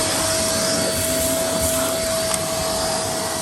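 A vacuum cleaner sucks debris out of holes drilled for a ground anchor install, a loud, steady whine with a constant high tone that runs alone throughout, with a brief clatter midway.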